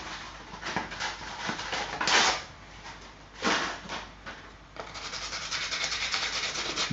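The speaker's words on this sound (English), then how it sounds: "let's take a little bit of sanding paper" Sandpaper rubs back and forth on a small roughly 5-millimetre piece, tapering it in uneven scratchy strokes with a few louder, longer passes; no talking.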